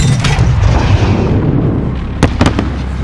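A heavy explosion in the video game Call of Duty Modern Warfare: a loud, sustained rumbling blast at close range, followed by a few sharp cracks toward the end.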